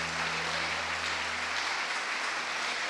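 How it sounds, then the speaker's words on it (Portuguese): Applause in a church congregation during a service, a steady, dense wash of clapping from a large crowd that holds at an even level throughout, with no speech on top. "Você pode dar uma salva de palmas para o Senhor?"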